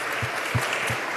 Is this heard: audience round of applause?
yes